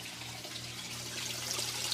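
Water trickles and pours steadily into a 75-gallon aquarium tank and sump with a DIY dual overflow system, a continuous close splashing flow that grows slightly louder toward the end.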